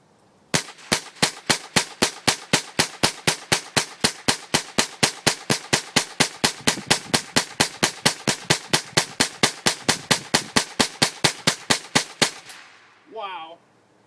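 A Puma Wildcat rifle fires Federal ammunition in a long, even string of sharp, loud shots at a steady rapid rhythm for about twelve seconds, followed by a brief voice.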